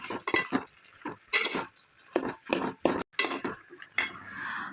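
Cooked tapioca is stirred with coconut oil in a pot, a spoon scraping and clinking against the metal in quick, uneven strokes, close and fairly quiet, with no talking.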